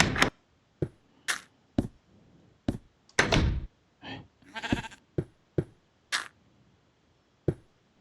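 A wooden door in the video game Minecraft clicks open and shut repeatedly, a string of short sharp thunks spaced about half a second apart, loud and close with near silence between them.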